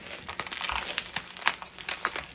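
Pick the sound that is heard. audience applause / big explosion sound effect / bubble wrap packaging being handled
bubble wrap packaging being handled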